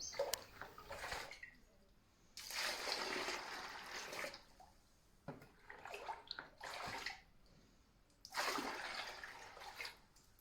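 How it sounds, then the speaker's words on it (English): Scoops of water are poured into horse dry mash in several separate bursts, each a splashing gush lasting a second or two, with quiet pauses between them and no talking. "We add 1 scoop of dry mash to every 2 scoops of water"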